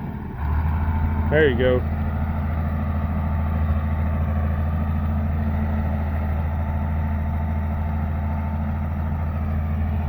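A John Deere tractor engine idling close by in a steady low drone that holds even throughout, with a brief voice heard early on.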